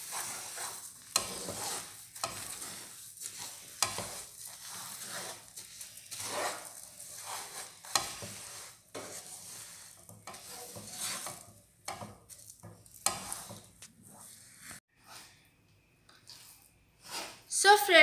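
Sesame seeds stirred by hand into hot melted jaggery in a pan just off the flame, giving uneven scraping and sticky stirring strokes, close and moderately loud, with a light sizzle underneath.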